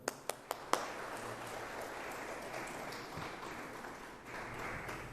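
A few sharp, separate claps open the clip, followed by faint, diffuse applause from an audience at an electoral lecture as a speaker is welcomed in a hall.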